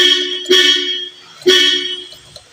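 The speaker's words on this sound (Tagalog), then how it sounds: "Issue niya busina. Pag pinipihit natin, yan, gumagana siya." A Honda Civic horn, faulty and working only intermittently from the steering wheel button, blares loudly up close in two bursts about a second apart, the second cutting off abruptly.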